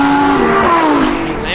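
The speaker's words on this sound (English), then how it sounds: "It is a screaming V10 on track." A Lamborghini Huracan's V10 engine screams at high revs on a racetrack, loud and continuous with the pitch sweeping as it passes.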